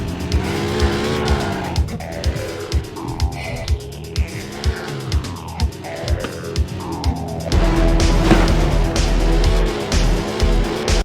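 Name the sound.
haunted car chasing the player in a PS1 video game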